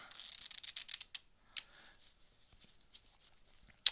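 A magician shuffles a deck of playing cards during a sleight-of-hand livestream: a quick run of crisp riffling flicks up close, then a few softer, scattered card snaps and slides.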